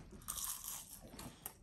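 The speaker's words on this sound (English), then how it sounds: "You can hear the crunch of that pastry." A bite into crisp fatira kashta pastry gives a few quick, close crunches, soft and brief, with no one talking.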